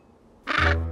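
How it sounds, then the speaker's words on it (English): A penguin gives a single loud, brassy squawk that starts abruptly after a quiet moment, close and harsh with a low buzzing undertone, fading slightly as it continues. "Let's listen to this penguin."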